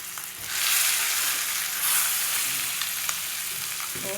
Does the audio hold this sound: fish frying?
yes